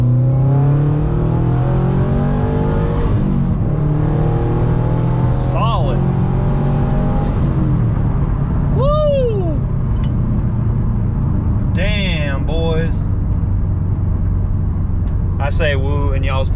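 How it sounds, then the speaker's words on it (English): A Subaru WRX pulls hard in second gear, its engine note climbing steadily with a loud, sustained roar from inside the car, then easing off briefly; people talk over it. "A little second gear pull."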